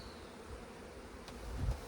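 A quiet, continuous hum of honeybees without brood as they are shaken into an intermediate box while making an artificial swarm, with a few soft bumps near the end and no talking.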